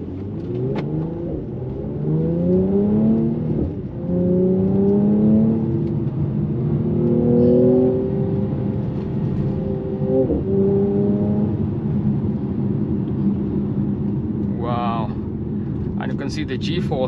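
A 2023 AMG C 43 Coupe accelerates hard in Sport Plus mode, its engine note climbing through several rising gear sweeps with brief dips at the shifts, steady and close inside the cabin while someone talks over it.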